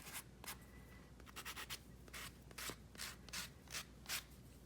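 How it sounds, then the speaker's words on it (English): A sanding block is rubbed lightly over a paperclay jack-o-lantern in a quiet series of short, rhythmic scraping strokes, close and soft, with no voices. "I'm just going to sand lightly."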